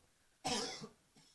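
A single harsh cough bursts out close by, followed by a faint brief throat sound, in an otherwise quiet room.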